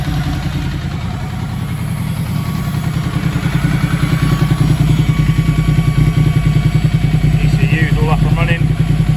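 A repaired motorcycle engine idles with a steady, close, throbbing putter that grows slightly louder and stays even, while someone talks over it.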